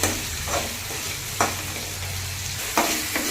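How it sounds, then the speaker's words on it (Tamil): A large cut tomato sizzles in a pan, with a steady frying hiss broken by three distinct stirring scrapes, close and fairly quiet with no talking. "பெரிய தக்காளி எடுத்து ஒன்று கட் பண்ணி வச்சுருக்கேன் நல்லா வதக்குங்க தக்காளி மசிஞ்சு வரணும்"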